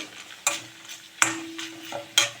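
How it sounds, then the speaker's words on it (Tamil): Pirandai (adamant creeper) sautéing in oil, a soft sizzle broken by three sharp scraping stirs of a ladle in the pan, close by. "பிரண்டையை வந்து நல்லா வதக்கிடலாம் எண்ணெயில் பிரண்டை கூட நல்லா வதங்கியாச்சு"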